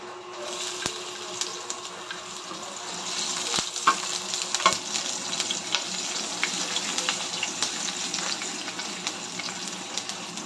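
Chopped siomai, onion and garlic fry in a pan for an ampalaya dish, giving a continuous close sizzle with occasional sharp utensil taps and stirring scrapes, no voices.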